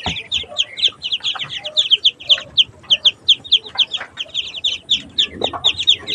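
A mother hen clucks agitatedly over her newly hatched ducklings as they are picked up, a rapid, insistent run of sharp repeated clucks, close and fairly loud, with faint rustling and other farmyard sounds underneath.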